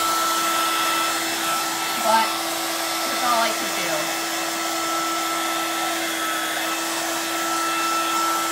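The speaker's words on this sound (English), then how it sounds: "I'm going to dry this real quickly. I know we don't like the hair dryer thing" A hair dryer blows steadily throughout, loud and close with an unbroken whine, while a person speaks briefly over it.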